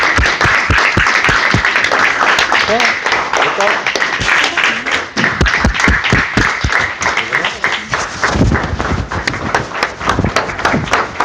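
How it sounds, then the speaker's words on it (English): An audience applauds an award presentation, a loud, continuous burst of clapping with sharp individual claps standing out throughout. "With that, a round of applause, and I introduce Sierra and her family."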